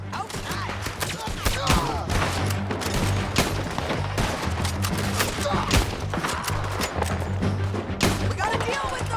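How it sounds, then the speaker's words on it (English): Dense gunfire in Red Dead Redemption 2, a nonstop barrage of overlapping shots and bursts throughout, loud and close, with game music humming underneath and voices talking over it. "Keep shooting till they don't get up."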